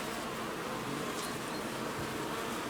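Many wasps buzz densely around beehive frames, a continuous close, high insect hum without pause.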